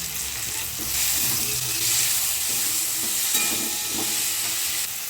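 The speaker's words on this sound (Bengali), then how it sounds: "অল্প জল দিয়ে মশলা আমি ভালো করে কষিয়ে দেবো।" Spice paste sizzles steadily in a pan for a Bengali gondhoraj chicken dish with slit green chillies, chopped tomato and a little water, while a spoon scrapes and stirs it in a few clear strokes; close and fairly loud, with no voices.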